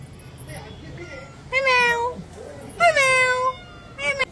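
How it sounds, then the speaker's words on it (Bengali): A pet cat at home meows several times, each cry drawn out and harmonically rich, with two long mews and a shorter one at the end, close and clear over a quiet room. "ম্যাও বুড়িটা কই আমার?"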